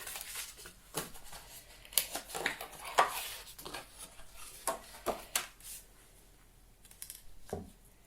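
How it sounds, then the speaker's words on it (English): Scissors snip through paper along an embossed die-cut line in a papercraft setting, a series of short, crisp cuts spaced irregularly, fairly quiet and close, with no talking. "So I'm now going to cut the other side."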